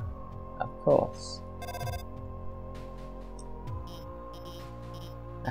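A real telephone rings in the room during play of the video game Undertale, a steady electronic ringing tone layered under game sounds and a voice talking, moderately loud and continuing throughout.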